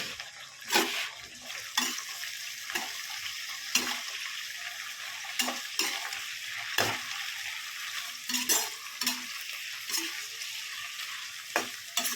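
Sliced, washed carrots fry in hot oil in a village kitchen, giving a steady close sizzle broken by regular stirring scrapes and clacks against the pan, with no talking.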